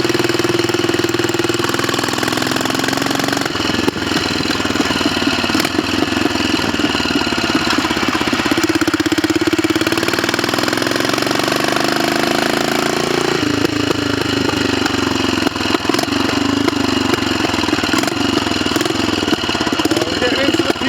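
A Royal Enfield 500 Bullet Trials motorcycle engine idles steadily throughout, with a loud, continuous thumping note and some mid-range rattle. Road traffic may be passing nearby.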